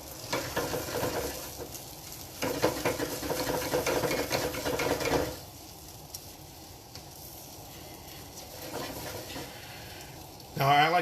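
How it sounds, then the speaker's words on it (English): Eggs being scrambled in a hot pan, a steady sizzle with stirring scrapes, louder for the first half and then quieter, with a voice talking over it. "And scramble those eggs"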